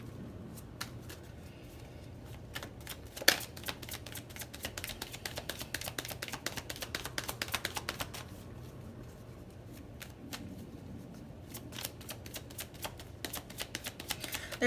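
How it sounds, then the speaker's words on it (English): Tarot cards being shuffled repeatedly up close, a long run of crisp riffling flutters and taps that rises and falls in bursts. "One more shuffle."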